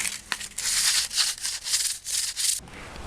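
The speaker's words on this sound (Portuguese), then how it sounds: "Agora é hora de lixar. Vou lixar esse negócio todo aqui." Sandpaper rubbing back and forth over a bass guitar's wooden fretboard as it is turned fretless, close and loud rasping strokes in an uneven rhythm for most of three seconds, then stopping abruptly.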